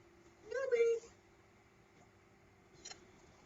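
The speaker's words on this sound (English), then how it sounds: "He's meowing at some." A pet cat gives a single short, clear meow close by in a quiet room, followed by a faint brief chirp a couple of seconds later, with only a low steady hum underneath.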